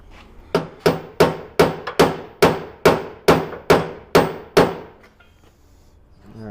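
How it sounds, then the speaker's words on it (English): A hammer beats out the edge of a sheet metal panel in ten evenly spaced, loud, ringing metallic strikes close by, each decaying quickly, then quiet shop noise with no talking. "I want to hammer out this edge right here"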